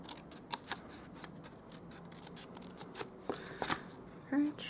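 Scissors make a few quiet, close snips while trimming and notching the tabs of a paper lidded favour box, with faint paper handling and a soft rustle near the end.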